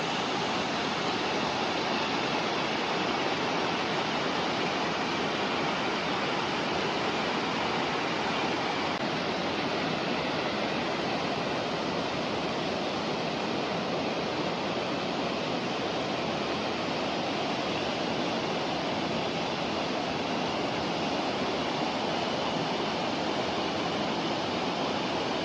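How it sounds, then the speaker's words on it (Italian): The Pissandolo waterfall in Comelico Superiore, Italy, roars steadily and loudly throughout, a dense, unbroken rush of falling water close by. "Ed ecco qua la nostra fantastica cascata."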